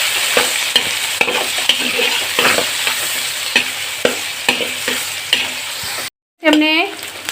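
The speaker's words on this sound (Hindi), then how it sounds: "इसको हल्का सा हमें फ्राई कर देना।" Thickly sliced onions fry in a pan, a steady sizzle broken by repeated scraping stirs, close and loud, before a brief pause and a clatter.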